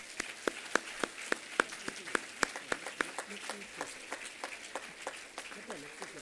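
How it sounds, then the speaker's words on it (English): Scattered audience clapping for a prize winner at the G20 University Connect event at Andhra University comes as a string of sharp, evenly spaced claps that thins out over six seconds, fairly faint against the hall's background. "I request everyone to give him a big round of applause."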